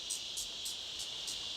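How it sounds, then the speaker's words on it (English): Insects, crickets among them, sing in a steady high-pitched chirping, with evenly spaced pulses repeating about every third of a second over a constant shrill hum, alone with no voices. "You may find the songs of insects strident or monotonous."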